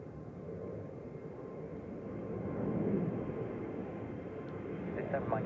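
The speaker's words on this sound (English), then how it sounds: "that's a classic A220 rocket departure" An Airbus A220 jet takes off at Zurich Airport in crosswinds on Christmas Eve. A steady, distant engine roar swells to a peak midway and then holds, with some muffled talk underneath.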